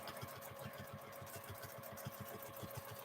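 A home sewing machine stitches fabric strips together for a quilt, its needle running in a steady, rapid mechanical rhythm with a constant motor hum, close and even throughout.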